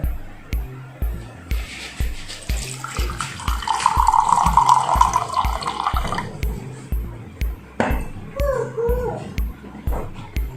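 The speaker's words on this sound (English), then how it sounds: "I am pouring 1/3 cup of water." Water splashes and trickles into a cup, a third of a cup poured, for several seconds, over a steady rhythmic ticking in the background, followed by a few clinks.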